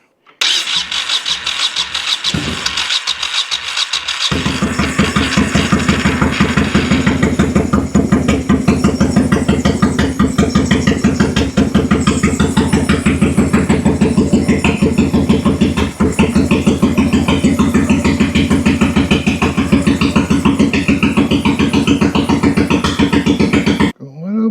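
A Honda VT1100 motorcycle engine, running on only one cylinder, cranks a few times then fires and settles into a loud, steady choked idle that runs unbroken for about twenty seconds.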